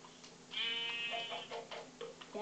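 A sheep in the Minecraft video game gives a single wavering bleat at moderate volume, with faint game ticks and clicks around it and no talking.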